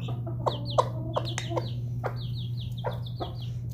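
Several chickens cluck and chirp close by in short repeated bursts, with thin high peeps mixed in over a steady low hum.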